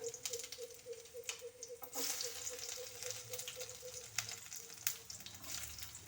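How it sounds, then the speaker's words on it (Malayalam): Mustard seeds fry in hot oil with a steady close sizzle broken by sharp popping crackles and occasional stirring clinks, for about six seconds. "ഈ എണ്ണയിൽ തന്നെ കടു വറുക്കാം"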